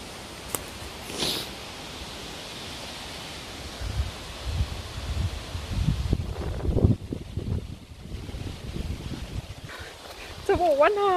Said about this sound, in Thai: อุ้ยตอนนี้ลมแรงมากเลยทุกคน